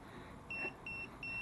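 Three short electronic beeps in a steady rhythm from a Jepwco G4 Pro anti-spy detector near a router, fairly faint against a low background hum.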